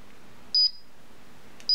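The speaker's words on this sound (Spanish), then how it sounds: "Vamos a conectar la alarma, 1, 2, 3, 4 y la tecla armar." Two short, high electronic beeps from a Paradox EVO192 alarm keypad as the system is armed, spaced about a second apart against a quiet room.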